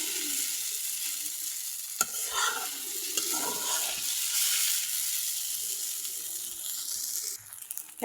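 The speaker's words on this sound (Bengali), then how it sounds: "আমি কিন্তু নুডলসগুলোও দিয়ে দিচ্ছি আর সুন্দর করে এখন ভালো করে মিশিয়ে দিচ্ছি" Noodles are stirred and tossed in a hot frying pan, a steady close sizzle with scraping, mixing strokes throughout and a brief knock partway, no voices.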